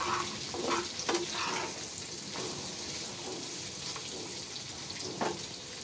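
Fish fry in a hot pan with a steady, crackling sizzle, punctuated by a few brief louder spatters and stirring sounds, close and continuous without any talking.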